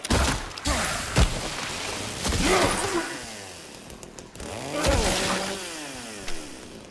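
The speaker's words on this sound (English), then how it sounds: "Life is so much easier with this chainsaw." Revving chainsaw in the Silent Hill 2 Remake video game, a loud buzzing motor that surges and fades in bursts with thuds and impact crashes mixed in, no talking over it.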